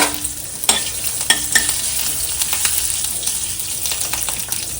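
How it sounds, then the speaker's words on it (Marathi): Mustard seeds, cumin and curry leaves crackle in hot oil, a loud continuous sizzle dotted with sharp pops and spatula taps against the pan. "आणि फोडणी अशी छान तडतडल्यावर"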